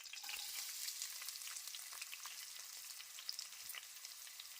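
Onions sizzle in hot oil with green chilies in a pan, cooking for tomato fried rice; a steady, close, hissing fry with faint crackles and occasional stirring, no voices.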